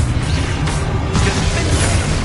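Heavy spell-blast booms and crashes from the Confringo curse in Hogwarts Legacy, a dense rumbling wall of low-end impact sound filling the whole moment, with a sharper crack partway through and faint voice underneath.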